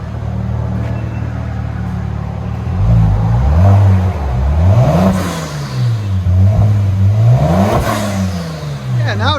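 A 2018 Kia Stinger GT 3.3L twin-turbo V6 with dual exhaust and resonators revs repeatedly, climbing and falling in loud throaty bursts after a steady idle, close by.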